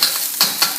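Fried rice with two eggs being mixed in a frying pan, a close sizzling hiss broken by three quick scraping stir strokes within under a second.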